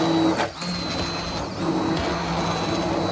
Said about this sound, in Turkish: mercimek soğuduktan sonra da blenderdan geçiriyoruz